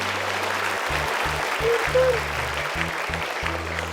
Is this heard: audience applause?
yes